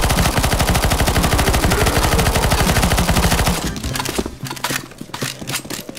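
Gunfire in the CS:GO Zombies game mode: a loud, dense stream of rapid automatic shots rattles steadily for several seconds, then thins into scattered, sparser bursts with no voices.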